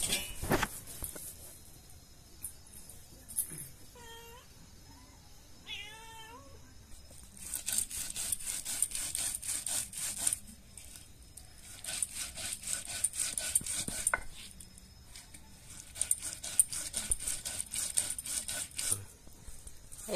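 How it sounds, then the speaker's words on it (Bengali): Soaked rice is ground into paste on a stone with quiet, rhythmic back-and-forth scraping strokes, and a cat meows a few times near the start. "এটা ভালোভাবে বাটার জন্য দুবার করে বাটতে হবে, তাহলে বাটাটা খুব সুন্দর হবে।"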